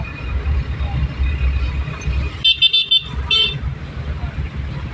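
Heavy road traffic on C5 in Kaingin, with engines rumbling steadily and a car horn honking in a short burst of toots partway through, while people talk.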